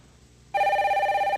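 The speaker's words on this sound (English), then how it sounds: "There's the phone." A telephone bell rings once, a loud steady electronic trill lasting under a second, clear and close against a quiet background.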